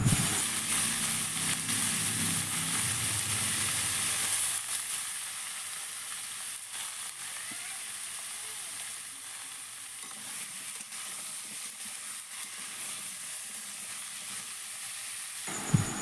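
Cut pumpkin and potato added to tempered oil for a vegetarian kumror chhokka, a loud sizzle at first that settles into a quieter steady frying hiss, with a final clatter at the end and no voices.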